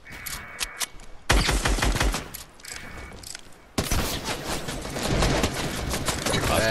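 Gunfire in a shooter video game, dense bursts of rapid shots and loud fusillades filling most of the stretch, with short quieter gaps and brief voice chat mixed in.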